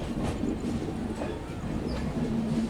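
Kacheguda–Murdeshwar superfast express train in motion, a steady close rumble of wheels on rails with a faint metallic squeal, continuous throughout without talk.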